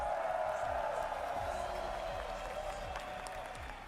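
Sustained applause from a large arena crowd at an esports grand final between Team Vitality and G2 Esports, steady and fairly loud throughout, fading slightly toward the end, with a faint voice underneath.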